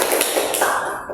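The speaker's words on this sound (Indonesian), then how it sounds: "berikan aplaus untuk kelompok 1." Classroom applause for a student group during a teaching practice session, a dense continuous patter of many hands clapping at once, steady and fairly loud throughout.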